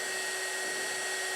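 An embossing heat tool blows a steady, loud, hairdryer-like whoosh of air with a constant motor hum and no variation.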